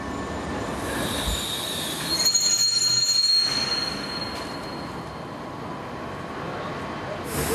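A train travelling through Germany rolls along the rails with a steady rumble and high metallic wheel squeals, fairly close and continuous throughout.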